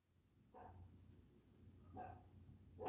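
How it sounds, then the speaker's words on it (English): Two or three sharp barks from a dog at home spaced apart, fairly distant and faint, over a low background hum, the last one louder. "Howie, what's she barking at?"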